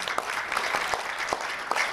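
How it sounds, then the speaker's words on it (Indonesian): Audience at a Daihatsu press event claps, a brief stretch of scattered hand claps over a busy room background, moderately loud with a few sharper individual claps standing out. "tepuk tangan dong"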